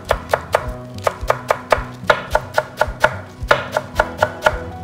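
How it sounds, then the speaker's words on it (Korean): Knife slicing stacked lettuce leaves into thin julienne strips on a cutting board, a steady run of crisp, close chops at a brisk, even rhythm with no talking. "이제 이렇게 가지런하게 포개 놓고 채 써시면 돼요."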